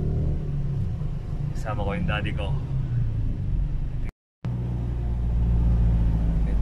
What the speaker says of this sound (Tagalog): Yan, nakasasakyan kami sa sasakyan ni daddy ko.